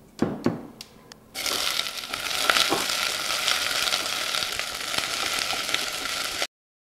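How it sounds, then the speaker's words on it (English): Onions sauté in a couple tablespoons of oil over medium heat, a few sharp clicks giving way to a steady, close crackling sizzle that holds evenly until it cuts off. "Saute the onions in a couple tablespoons of oil"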